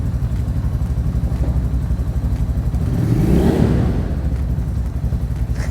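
A cheap Walmart sport motorcycle engine runs loud and close just after starting, a steady pulsing idle with a brief swell in revs midway, no talking.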